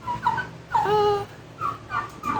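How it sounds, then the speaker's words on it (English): A Royal Palm turkey, a heritage breed, makes a series of short, high, wavering calls and whiny yelps, close by, over a low steady background hum. "It's a Royal Palm turkey, heritage breed turkey."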